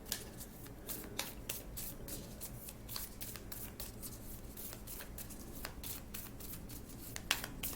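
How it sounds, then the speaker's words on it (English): Cards are shuffled close up in a steady run of crisp riffles and slaps, quiet and with no talking. "I love shuffling these cards."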